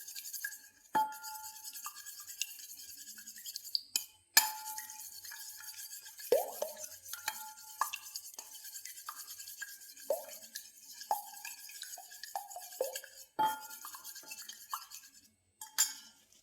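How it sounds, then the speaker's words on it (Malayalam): A spoon stirs salted eggs in a bowl, giving a string of light clinks and soft wet scrapes with short pauses between strokes, close and fairly quiet. "എന്നിട്ടൊരു സ്പൂൺ വെച്ച് നമുക്ക് ഇളക്കി കൊടുക്കാം"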